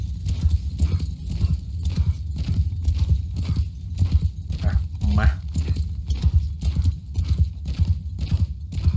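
Horses gallop in Mount & Blade 2: Bannerlord with a steady, rhythmic clip-clop of hooves throughout, under a man's speech and a low battle rumble.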